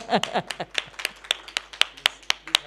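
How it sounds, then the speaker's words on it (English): A small group at a university webinar claps for the speaker, Dr Francis Lugayizi: about a dozen distinct, fairly close hand claps that grow sharper and more regular, with brief voices at the start. "Should we give you another round of applause?"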